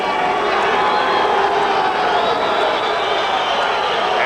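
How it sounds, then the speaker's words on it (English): Boxing arena crowd booing Jorge Paez in his rematch with Louie Espinoza, a dense, loud and sustained roar of many voices filling the hall without pause. "the Espinoza portion of the crowd booing Paez"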